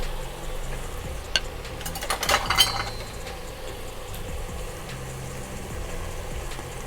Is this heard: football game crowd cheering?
no